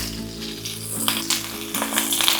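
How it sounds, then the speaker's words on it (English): Sliced mushrooms searing in a hot wok for Filipino chop suey, a steady loud sizzle with a low hum and occasional crackling spits. "make sure that all of the mushrooms have the chance to sear in the pan"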